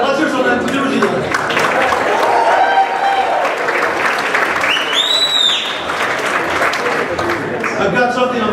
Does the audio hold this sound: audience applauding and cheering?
yes